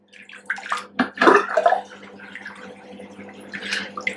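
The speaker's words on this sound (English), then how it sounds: "Again, squeezing out the water." Rinse water is squeezed out of a knitted swatch of Holst SuperSoft wool, giving close splashing and dribbling into water in a few short bursts, then quieter trickles and drips.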